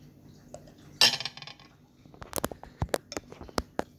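A utensil clinks and scrapes against a bowl while homemade noodles with malunggay leaves are mixed, giving irregular sharp taps and clinks up close against quiet surroundings.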